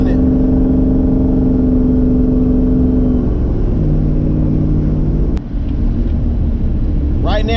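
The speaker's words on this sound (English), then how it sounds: "I'm brake boosting it." A turbocharged LQ9 V8 in a Nissan 240SX is held at steady revs while brake boosting, its loud droning harmonics shifting pitch partway through with a brief sharp click before the engine note settles again.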